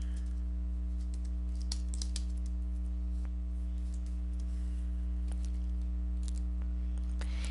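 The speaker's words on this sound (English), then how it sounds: "So I'm going to type that in." Keys clatter on a computer keyboard as a course name is typed into a class schedule search, light irregular taps over a strong steady electrical hum, with no talking.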